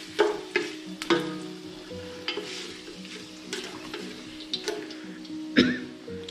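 Dried red chillies fry in hot oil with a soft, steady sizzle broken by several sharp clicks and stirring knocks; a cough is heard once, with no talking.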